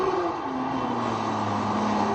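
A Maserati MC12 accelerating at full throttle, its engine note rising then dipping as it shifts and climbs again, loud and continuous from inside the car.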